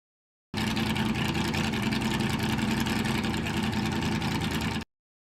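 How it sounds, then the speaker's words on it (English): Onboard audio from a NASCAR race car at the Charlotte Roval: a steady, loud engine drone holding one pitch for about four seconds, then cutting off, with no talking. "That audio was actually captured straight from Travis's car"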